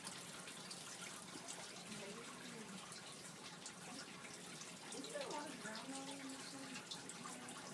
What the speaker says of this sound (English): you can pour the water into the tall beaker